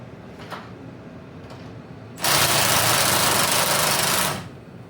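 A compact Milwaukee cordless impact tool hammers at cold bolts on a ratty Chevrolet C10 pickup's TH350 transmission, one loud, steady, rattling burst of about two seconds, close up after a quiet stretch.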